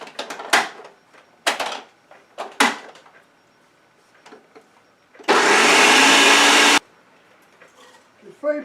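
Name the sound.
food processor grinding rolled oats into flour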